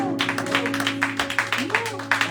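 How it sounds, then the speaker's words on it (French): A church congregation claps in rapid, rhythmic applause throughout, with a voice speaking and singing over it at a thanksgiving service. "est-ce qu'on peut applaudir?"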